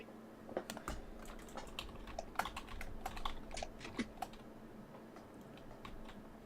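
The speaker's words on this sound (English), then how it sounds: "I can hear a lot of your keyboard clicks and stuff" Rapid, irregular clicking of computer keys, close and clear, with bursts of keystrokes over a soft background hum.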